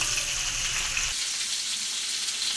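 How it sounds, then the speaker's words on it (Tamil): Fish frying in hot oil while a Tamil fish curry is being made: a steady broadband sizzle with a low rumble that drops away after about a second, leaving the crackling hiss alone. "இப்போ இது பொரிக்கிறோம்"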